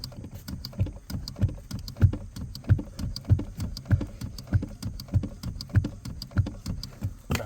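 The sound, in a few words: pumping Mustang clutch pedal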